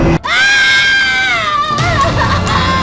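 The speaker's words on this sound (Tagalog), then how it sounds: "nung umalingaw-ngaw ang isang sigaw" A woman's loud, sustained scream rings out at night in a village neighborhood in Tarlac, one long piercing cry that wavers and breaks near the end, close and intense, with no talk over it.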